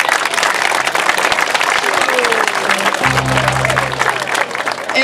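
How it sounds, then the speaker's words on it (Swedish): Loud applause from an audience at a midsummer celebration fills the clip, dense and steady clapping throughout, with a brief low tone underneath toward the end. "bra för en applåd tycker jag."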